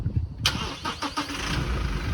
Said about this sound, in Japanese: これやっぱりちょっとエンジンかけますけど